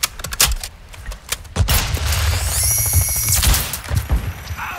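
Loud, rapid gunfire in a first-person shooter video game crackles almost continuously as a firefight, with repeated sharp shots and rattling bursts layered over a dense, rumbling mix of game effects.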